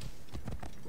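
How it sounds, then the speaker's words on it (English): Horse hooves clip-clop in Assassin's Creed Origins, a quick run of muffled, fairly loud steps packed into under a second with no talk over them. "Then call the horse and ride back"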